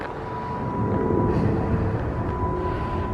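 A South Western Railway train approaching a station makes a steady low rumble and drone that builds slightly and then holds, with a faint tonal whine above it and no voices.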